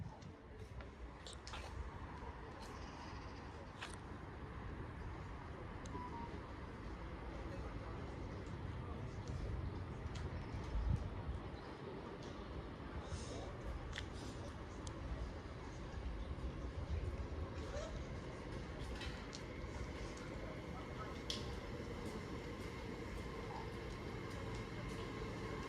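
An Avanti West Coast train at Rugby station gives a steady, continuous rumble of rolling stock and engine noise that holds evenly throughout, with a few faint higher clicks and squeals on top.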